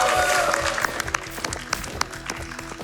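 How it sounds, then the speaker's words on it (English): Audience applause at a Games Done Quick speedrun marathon during a Castlevania: Dawn of Sorrow run, a short burst of clapping with sharp individual claps mixed into game music and background sound. "Can we get a round of applause for Yashichi?"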